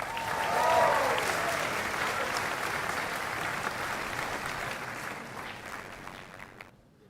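A large audience applauds at a professional welcome ceremony, broad sustained clapping that swells early, holds steady, then tapers off and stops near the end.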